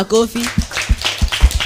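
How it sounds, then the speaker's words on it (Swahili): A small group of people clapping in a short burst of rhythmic claps, right after a brief bit of speech. "Tumpigie makofi kwa hiyo swali."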